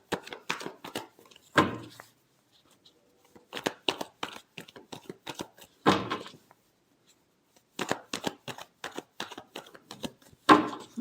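A deck of tarot cards is shuffled by hand in several close, crisp bursts of riffling and slapping, separated by short quiet gaps, with no talking over it.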